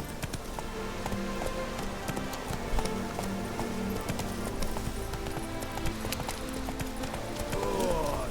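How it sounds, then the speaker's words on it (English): Horse hooves clip-clop at a running pace across a Witcher 3 game landscape, moderately loud and rhythmic over ambient game sound, with a brief voice late in the stretch. "Whoa there, Roach."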